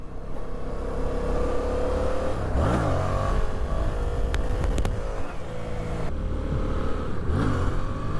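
Yamaha FZ07 motorcycle engine revved with the throttle, a loud, steady close-up drone that rises and swells in pitch a couple of times, with no voices.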